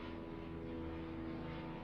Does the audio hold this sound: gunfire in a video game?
no